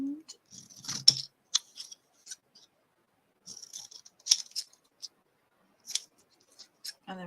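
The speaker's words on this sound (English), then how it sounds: "Here's my bigger scissors." Large scissors snipping paper during a watercolour card-making session, a series of sharp crisp cuts in irregular bursts with short pauses between, close and clear.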